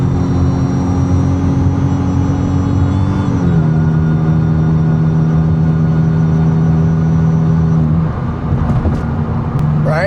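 A Mazda 3 engine idling and revving with a DIY supercharger whine mod fitted, producing a loud, close, sustained drone with a steady tonal whine that steps down in pitch partway through and later drops again, without speech.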